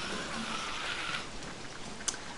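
Rain falls in the video game Don't Starve as a steady, soft hiss of drops on the ground, constant throughout, with one brief sharper tick near the end. No one speaks.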